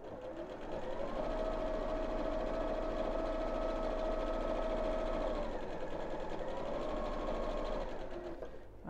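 A domestic sewing machine runs steadily for about eight seconds, stitching a fabric peg bag with a continuous close whirring hum that eases slightly near the end.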